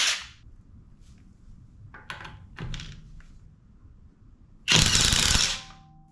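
Seesii WH700 cordless impact tool removing lug nuts from a car wheel: a loud, sustained rattling burst of about a second near the end, preceded by quieter clicks and clanks of handling.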